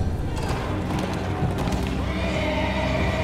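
A video game horse whinnies loudly amid clattering hooves and heavy thuds, close and dramatic, with the neigh rising toward the end.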